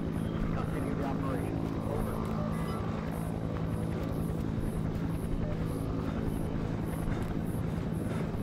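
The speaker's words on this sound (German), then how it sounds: "Die Helikopter wartet da drüben." A helicopter waits nearby in an alien-abduction horror video game, its steady rotor chop and engine drone running continuously at moderate loudness beneath game sounds.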